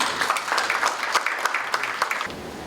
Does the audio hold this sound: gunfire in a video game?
no